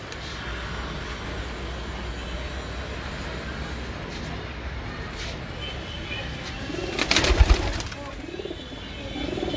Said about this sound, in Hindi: उस्ताद मियां इमरान साहब के वो कबूतर हैं जो इस साल जेठ में आउट क्लास